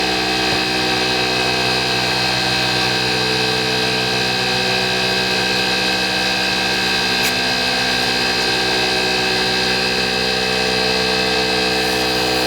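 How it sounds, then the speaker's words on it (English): A lathe spins a cocobolo pen blank while it is sanded with lubricant, giving a loud, constant machine hum and whine with steady tonal drone and faint friction hiss throughout. "you'll notice the speed with which I'm sanding, because the sanding lubricant will prevent the Cocobolo"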